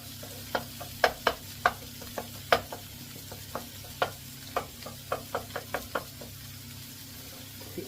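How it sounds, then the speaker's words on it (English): A wooden spoon knocks and scrapes through a sizzling Tuscan chicken sauce in a pan, giving irregular close taps over a steady low frying hiss. "So just gently stir it around."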